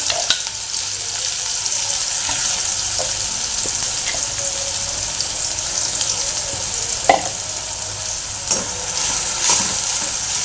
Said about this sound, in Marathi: आता इथे बारीक चिरून घेतलेला कांदा आहे तो घालून घेते।